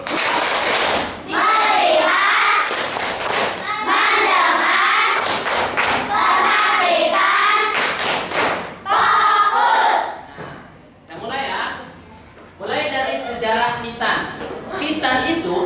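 A fourth-grade class at an Islamic primary school performs the 'tepuk fokus' focus-clapping routine: bursts of rhythmic group clapping and thumping in set patterns, broken by short pauses, with children's voices mixed in.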